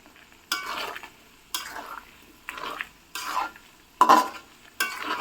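Garlic cloves and spices being stirred in a pan for garlic pickle, six distinct scraping strokes about a second apart, each a short rasping burst over faint sizzling, close and fairly loud.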